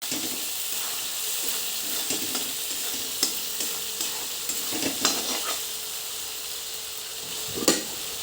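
Ground ginger and coriander gravy frying in hot oil, giving a steady close hiss of sizzling with scraping stirs and occasional sharp spoon knocks against the pan.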